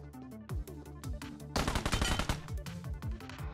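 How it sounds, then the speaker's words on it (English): Gunfire in the mobile battle royale game PUBG Mobile, Metro Royale mode: a few single shots followed by a loud rapid automatic burst, then more scattered shots, close and punchy with no talk. "This gun actually sounds pretty nice."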